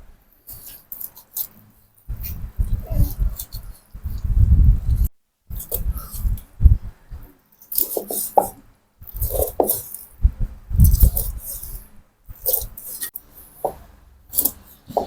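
A knife blade chops raw tilapia into pieces on a cutting board, with bursts of cuts separated by short pauses; close and fairly loud.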